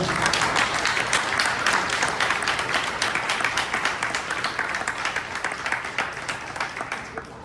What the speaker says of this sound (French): Je pense qu'ils méritent tous une belle main d'applaudissement.